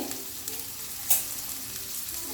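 Chopped onions and green chilies sauté in a pan for a Malayalam vermicelli snack, giving a steady close sizzle with one brief sharp stir or clatter partway through.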